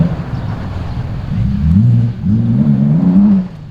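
A classic rally car accelerating hard on a loose gravel test stage, the engine note climbing in two rising pulls, loud and close, with a brief dip between them.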